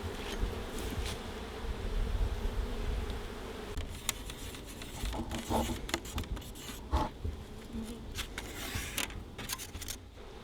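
Honeybees buzzing around an open hive in Southeast Georgia, a dense, continuous hum close by, broken by clicks and scrapes from frames being handled.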